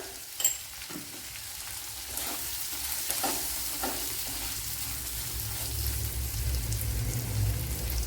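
Onions fry in a pan with a steady, close sizzle and crackle, with occasional stirring scrapes, the sizzle building louder toward the end.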